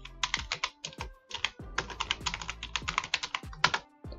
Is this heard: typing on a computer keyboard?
yes